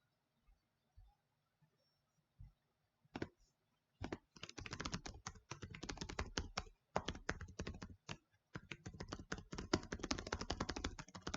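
Computer keyboard typing while filling in an online registration form. A few isolated taps come first, then dense, rapid bursts of close key clicks with short pauses between them.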